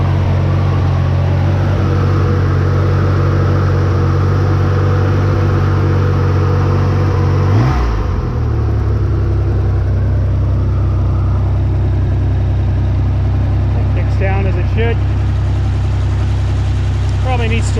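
A 1962 Chevrolet Corvair 700 Wagon engine runs at a steady, low, rumbling idle nearby, with a brief shift in tone partway through and faint sounds over the drone.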